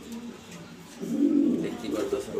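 Two male grizzle-coloured pigeons in a pigeon loft coo in low, throaty rolls, growing fuller and louder halfway through and continuing to the end.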